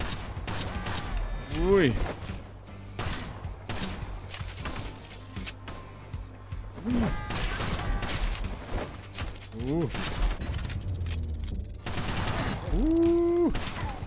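Gunshots in the cowgirl shooter Kill the Crows, with dense, continuous volleys of rapid firing throughout and frequent reload clicks, while a player exclaims softly.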